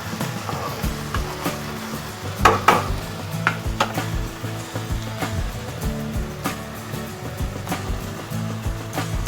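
A vegetable curry of capsicum, carrot, tomato and paneer with cashew paste is stirred in a pan, giving repeated scraping and clattering knocks of the spoon against metal over a steady low background.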